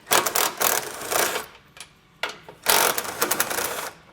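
An 18mm socket wrench ratchets rapidly as it backs out the bolts of a vehicle's bumper beam during a hidden hitch receiver install. Loud, close clicking comes in bursts with short pauses between them.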